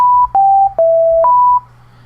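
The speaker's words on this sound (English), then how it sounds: "Obviously all you're going to get is a sine sound." A pure sine wave tone from the Native Instruments Massive synth plays as a few clean, sustained notes, each stepping to a slightly different pitch before returning. The notes sound alone, smooth and steady, with brief gaps between them.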